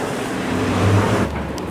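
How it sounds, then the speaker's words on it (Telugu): A number 6 city bus rolls up to a stop in Korea, a brief moderate rumble of engine and road noise swelling slightly as it nears, with no voices heard. "అదిగోండి బస్సు వస్తుంది, అది 6వ నెంబర్ బస్సు"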